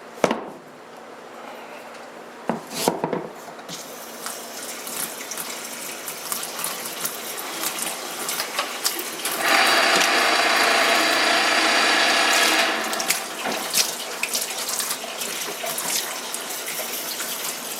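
A pair of Mezlan leather dress shoes with fabric paint is handled at a sink: a few knocks and clatters, then a tap runs in a steady, loud rush for about three seconds before shutting off, followed by more handling noises.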